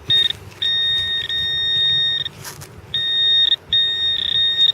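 Metal detector tone sounding over a buried coin, a steady high electronic beep held in two long stretches with a brief gap between, loud and close over faint outdoor background.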